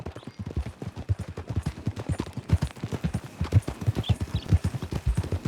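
Horse hooves clip-clop in a steady, rhythmic trot in Red Dead Redemption 2, close and clear, running continuously with no talk over them.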